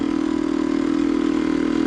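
A 1974 Yamaha DT250 two-stroke motorcycle engine runs at light throttle, a steady, close, buzzy drone with an even fast pulse and no talk.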